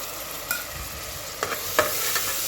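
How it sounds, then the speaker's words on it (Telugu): A steady sizzle of coriander paste frying in ghee for chicken biryani, with a few soft scraping stirs of a spoon. "2 స్పూన్ నెయ్యి వేసి కొత్తిమీర పేస్ట్ ఎర్రగా వేగాలండి"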